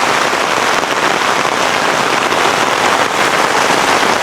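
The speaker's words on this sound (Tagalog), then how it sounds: "Sobrang lakas yung ulan talaga." Heavy rain pours down on a farm plot of crops, a dense, loud, unbroken hiss of drops hitting the ground and leaves with no pauses.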